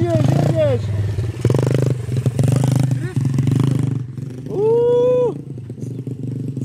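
A motorcycle during a riding lesson: the engine runs under continuous voices and clatter, then revs up clearly near the end.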